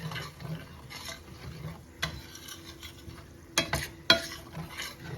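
A spoon scrapes and stirs gravy in a pan over a quiet sizzle, with a few sharp clinks against the metal.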